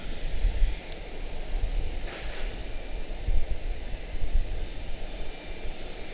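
An Airbus A319 jet taxis at Charlotte-Douglas International airport, its engines a steady low roar with a broad rushing whine, heard from a distance without any talk.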